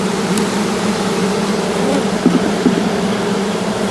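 A dense, steady buzz of honeybees rises from an open hive being worked, loud and close with no talk.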